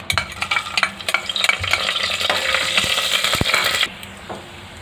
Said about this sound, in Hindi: तेल गरम हो चुका है, मैं इसमें एक साबुत गरम मसाले डालूंगी।